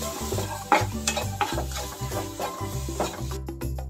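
Turmeric powder and salt are stirred and roasted in a pan with a rhythmic scraping of the spoon over a light sizzle. The strokes come close and steady, several times a second, with no voices.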